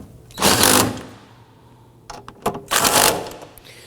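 Ratchet tightening bolts on the fuel pump module of a 2015-2024 Nissan Murano 3.5L V6: two bursts of rapid clicking, close and fairly loud, separated by a quieter pause with a few isolated clicks.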